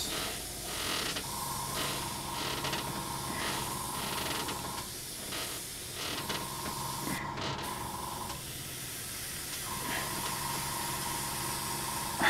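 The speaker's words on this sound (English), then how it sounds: "And that's quite a nice medium spray pattern that is, guys." Iwata Eclipse HP CS airbrush laying down a medium spray pattern for base coating: steady airy hissing bursts, several in a row with short pauses, close and fairly loud, no voices.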